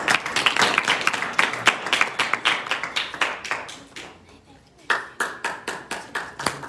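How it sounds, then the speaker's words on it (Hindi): An audience at the Sharda competition award ceremony claps for Vikas, loud rhythmic clapping in unison with a brief dip before the clapping picks up again. "विकास जी के लिए जोरदार ताली।"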